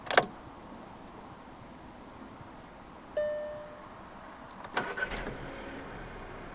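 A 2016 Audi A1 Sportback 1.4 TFSI 125 S line is started with the key: a soft electronic chime sounds, then a short crank and the engine catches, settling into a quiet idle in a hushed setting.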